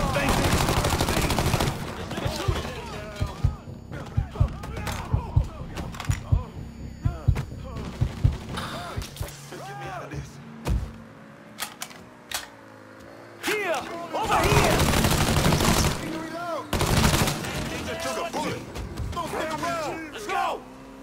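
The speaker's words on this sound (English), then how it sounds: "We got us a gunfight." Gunfight in the video game Mafia III, with bursts of automatic gunfire and rapid shots crackling in loud volleys, pausing briefly midway before resuming, mixed with game music and shouting voices.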